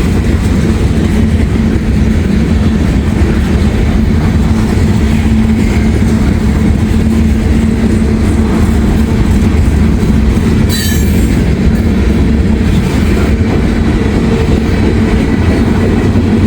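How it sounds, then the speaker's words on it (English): A Kansas City Southern freight train rolls past a road crossing, a loud continuous rumble of wheels and cars with a brief metallic squeal partway through, steady throughout with no one talking. "It's a good train here."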